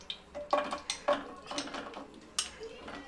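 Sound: roasting dates in ghee in a pan

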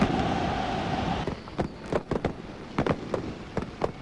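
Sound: fireworks going off at a football match

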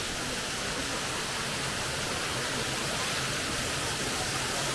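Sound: waterfall

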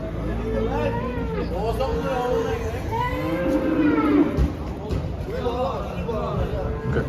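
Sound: cattle lowing at Bergama livestock market

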